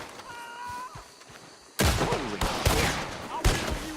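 Gunfire in the video game Red Dead Redemption 2, several loud sharp shots in quick bursts after a quieter opening with a whistling tone and soft thumps, ending in a repeated barrage.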